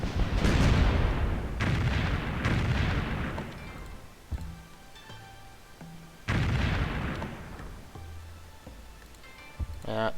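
Artillery fire in Civilization III set in World War II, two heavy booming blasts a few seconds apart, each decaying into a long rumble, with quieter game sounds between them.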